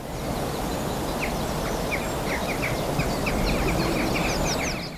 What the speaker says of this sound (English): Hearing the birds chirp nearby.